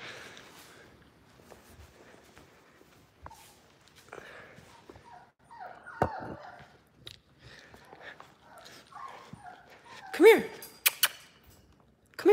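One-month-old red Labrador puppies whimper, yip and squeal indoors in scattered short bursts, some faint and some sharp and close, with a person speaking softly at times among them.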